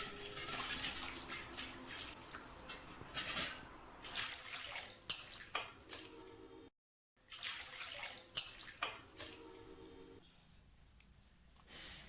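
Cold water runs steadily from a tap into a vessel of boiled goat intestine, splashing irregularly, with a brief break in the middle before flowing resumes.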